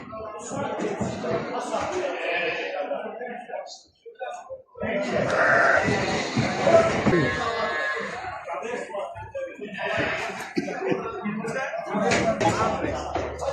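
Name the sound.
Gala sheep bleating at livestock market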